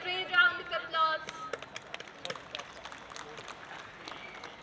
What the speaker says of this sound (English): Please everybody, give them a great round of applause.